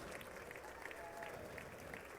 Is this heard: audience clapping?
yes